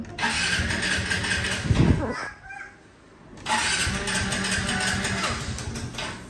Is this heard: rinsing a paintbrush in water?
no